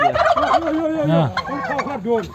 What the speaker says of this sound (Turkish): Bu horoz ne horozu?